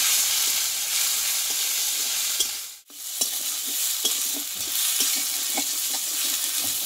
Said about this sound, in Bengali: এখানে কিন্তু মশলাটা ভালোভাবে কষিয়ে নিয়েছি